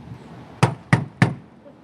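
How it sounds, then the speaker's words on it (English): Three firm, evenly spaced knocks on a door, sharp and close, with quiet in between. "astronaut Kjell Lindgren quite simply knocked on the door"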